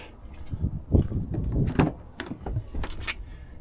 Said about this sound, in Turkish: arka kapıyı açıyoruz